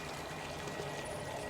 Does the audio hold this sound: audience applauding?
no